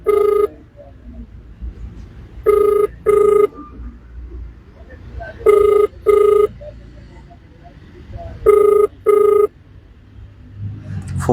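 A telephone rings unanswered in repeated double bursts, loud and near, with quiet pauses between the pairs of rings.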